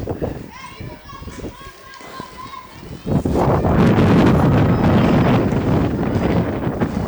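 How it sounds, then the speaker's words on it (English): A big gust of wind roars across the microphone at an outdoor college softball game, rising suddenly and staying loud and buffeting for several seconds after a stretch of background chatter and children's voices. "Big gust of wind just came through."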